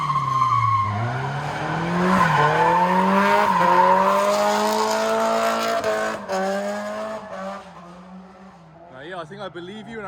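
A car slides through a drift in Japan, tires squealing in a long, rising and falling screech over a revving engine. The squeal fades out near the end, and voices can be heard in the car.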